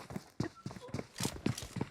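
A horse galloping in the mobile battle royale game BGMI, a rapid run of hoof clip-clops in an uneven rhythm, fairly close and clear, with no talk over it.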